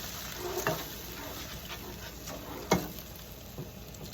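Pasta shells with peas simmering in a pan with beef bouillon, giving a low steady sizzle and bubble with a few sharp clinks and stirring knocks.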